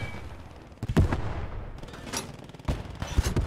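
Anti-tank gun shots in a World War II-style game defending a beach against Churchill tanks: two or three loud, sharp blasts with rumbling tails amid ongoing battle noise.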